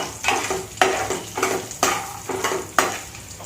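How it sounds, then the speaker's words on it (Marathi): Peanuts stir-roasted in a pan for thick poha chivda, with a rhythmic series of close, loud scrapes and rattles from the spatula, roughly every half second, over a soft frying hiss. "आता यात शेंगदाणे घालू. तेही परतून घेऊ."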